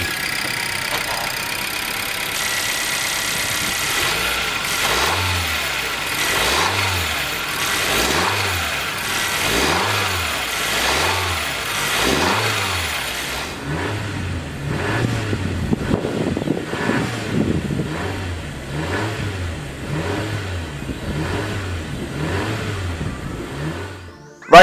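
A 2020 Honda CR-V with a 1.5 liter direct injection turbocharged four-cylinder engine runs steadily nearby. Its rhythmic engine pulses carry on throughout the recording, and the tone gets rougher partway through.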